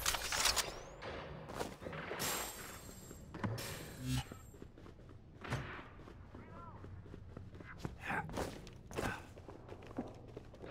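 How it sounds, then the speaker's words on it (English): Weapon reloading in a fast shooter video game, a quick run of mechanical clicks and clacks among footsteps and a few sharp thuds, fairly faint and close. "Reloading."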